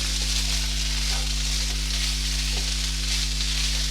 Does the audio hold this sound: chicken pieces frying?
yes